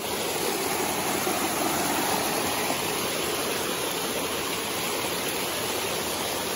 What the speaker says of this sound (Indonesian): aku bakalan kasih nampak atau tunjukin ke teman-teman air terjun yang keduanya